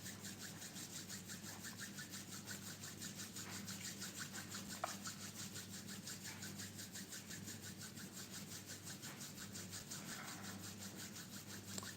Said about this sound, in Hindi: just rub your hands like this